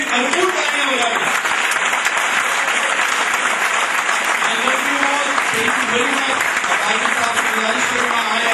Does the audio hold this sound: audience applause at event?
yes